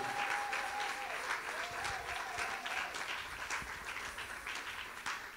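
A church congregation applauding and cheering for the Lord, sustained dense clapping from a crowd with a faint sung or called tone early on.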